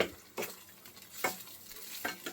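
Black pepper tempering sizzles in hot oil in a pan while a spoon stirs it in several distinct scraping sweeps, quiet and close, no voices, for buttermilk curry with ash gourd.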